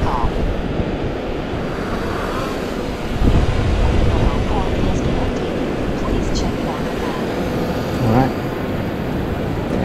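A fishing drone flies over the beach breakers, its faint hum mixed with steady wind buffeting the microphone and the rush of surf, with a louder gust of noise in the middle.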